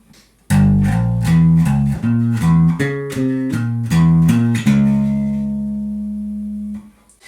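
A single pass of a metal bass riff's full C section in a harmonic minor mode, with distorted tone, a steady run of punchy low notes, then one long held note ringing out and fading.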